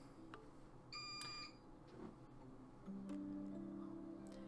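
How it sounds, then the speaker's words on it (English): A short, high electronic beep chirps once amid quiet room sound, followed by low sustained tones; faint and brief against the background. "That beep's gonna go away eventually, I swear."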